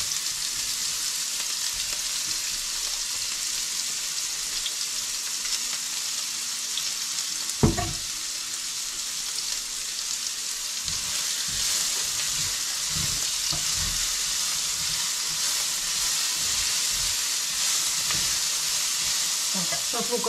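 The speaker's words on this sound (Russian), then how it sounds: "Так, сейчас лук обжарится, потом подключусь еще раз." Halved onion rings frying in a pan for Asian-style rice noodles with vegetables, a steady broadband sizzle throughout with a sharp clatter near the middle and a few soft stirring knocks, no talk.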